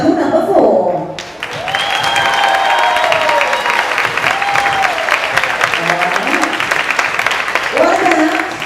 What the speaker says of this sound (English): what have you got for big cheer for your favourite team?